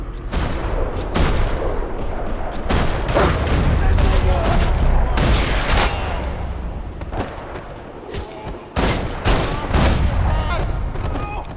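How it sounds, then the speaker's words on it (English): Rapid bursts of gunfire in a parking lot in the video game Max Payne 3 crackle and pop in quick clusters, loud and close, with deep booms underneath and brief pauses between volleys. "Another parking lot rattling with gunfire."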